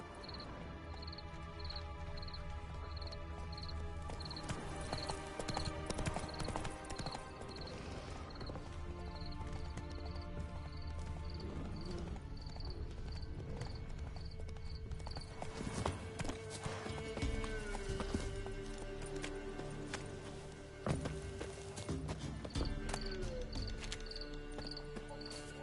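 Roach, the horse in The Witcher 3, gallops with rhythmic hoofbeats over a bed of crickets and game music, moderately loud and steady the whole time.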